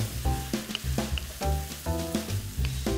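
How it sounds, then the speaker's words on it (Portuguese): Onion and garlic fry in a hot pan, with a steady crackling sizzle that runs throughout, punctuated by brief clinks and stirring scrapes. "eu vou deixar fritar um pouquinho para fazer a mistura"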